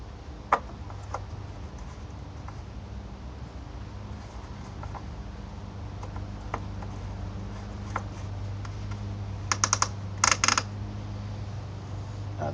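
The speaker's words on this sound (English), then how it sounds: "The clicking you heard there was just the ratchet effect of the thing there, so you don't over crank it and break it." Ratchet of a funnel cap clicking as it is tightened during an oil change: scattered faint single clicks, then a quick burst of sharp, close clicks near the end over a steady low hum.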